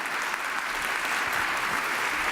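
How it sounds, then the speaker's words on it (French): Steady applause from a debate audience at a culture forum in Bordeaux, a dense, even wash of clapping that runs full and close for the whole stretch with no voices on top. "vous pouvez les applaudir"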